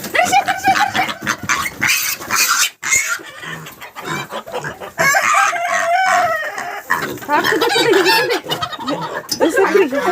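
Chickens cluck and squawk close by, mixed with a rooster-like crow and busy, overlapping human voices throughout.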